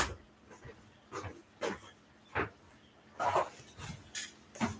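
A dog named Millie barks in short, separate bursts spread across a few seconds, each one near and clear over a noisy background.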